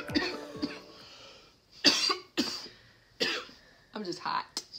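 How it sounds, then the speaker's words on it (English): Several harsh coughs in bursts, close by, with short pauses between them and a little throat-clearing. "Excuse my cough."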